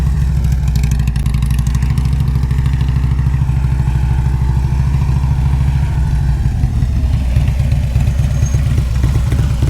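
A motorcycle engine runs loud and close for the whole stretch, with steady throttle revving and a mechanical clatter over the rumble, while a rider practises throttle control during a riding lesson.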